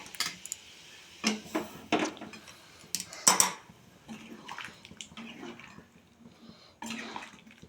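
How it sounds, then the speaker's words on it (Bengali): Water splashes and trickles into a pan of potatoes and cauliflower on the stove, in intermittent pours mixed with light clinks of metal cookware, close and fairly quiet. "এবার একটু জল দিয়ে দেবো, একটু রসা রসা করবো।"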